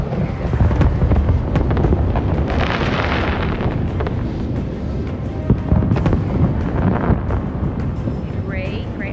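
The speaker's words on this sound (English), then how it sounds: "He is currently busy looking at the fireworks" Fireworks over Paris in the HITMAN game: rumbling bursts and crackle rolling continuously beneath a loud windy ambience, with occasional sharper pops and whistles.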